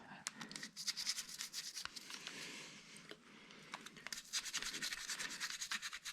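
Motorcycle brake calipers being scrubbed clean during a pad change, giving steady close rubbing and scratching strokes in uneven bursts, with low speech murmuring underneath.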